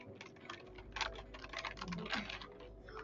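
Keys on a new Logitech G915 gaming keyboard are typed in a quiet room, giving a quick run of soft, close clicks in uneven bursts with no talk.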